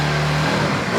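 An ATV quad sports bike engine catches and revs, a loud close mechanical roar with a steady low hum that rises briefly toward the end.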